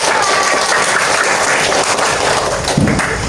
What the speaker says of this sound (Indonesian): Oke, tepuk tangan dulu tadi.